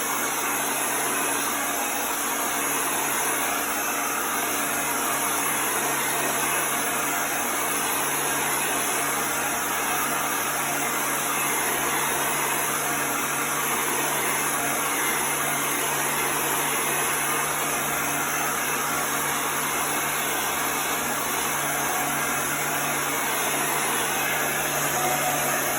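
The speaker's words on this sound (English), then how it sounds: "So now we're just going to dry this really quickly. This is just a heat gun." A heat gun dries chalk paste on a craft project, giving a loud, steady blowing roar with a fixed whine, close and unbroken from start to finish, with no talking.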